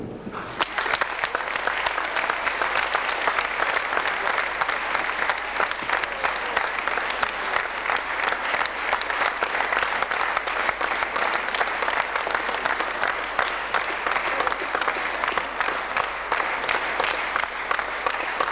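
An audience at a 2008 dance school exam ball claps loudly and without pause, a dense, sustained wall of applause that fills the whole stretch.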